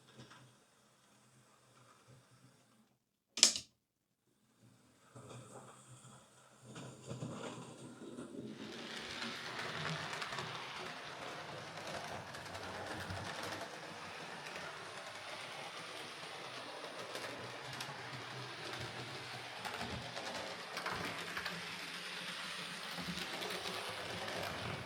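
A Bachmann Manor class model railway locomotive runs steadily after its motor was refitted to ease pressure on the gears, giving a continuous faint whirring hum. A sharp click and some quiet handling noises come before it.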